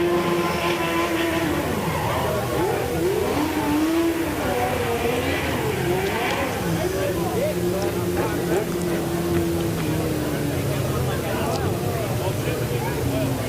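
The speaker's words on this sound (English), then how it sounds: "And James Edsel, your winner here in the Legend Cars, picks up his first one of the year here at the Speedrome, I do believe." Legend race cars roaring around the Speedrome oval, engines droning and rising in pitch as they pass, heard under a race announcer's continuous commentary.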